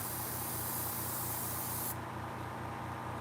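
A new budget airbrush sprays paint in a steady, close, continuous hiss, with a brighter high edge that drops away partway through while the spray keeps going.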